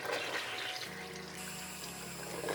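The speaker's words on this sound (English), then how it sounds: "We're gonna flush the toilet." A toilet with Fabuloso cleaner added to its tank is flushed, giving a close, continuous rush and gurgle of draining water at steady volume with a low hum running beneath it.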